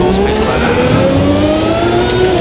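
A 1990 World Championship race car at the start in Rio, its engine roaring steadily with a rising, accelerating tone, loud and close throughout, with no speech.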